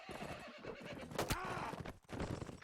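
A cavalry horse whinnies in a medieval battle video game, one sharp rising neigh over busy clip-clop and combat clatter, with brief speech nearby.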